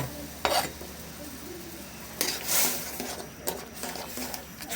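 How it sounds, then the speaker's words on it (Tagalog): Coconut milk with malunggay leaves is stirred in a pot, with soft liquid swishing, a gentle simmering sizzle and a few clinks of a spoon against the pot, close and unhurried with no speech. "halo-haloin lang natin para di mabuo yung ating gata"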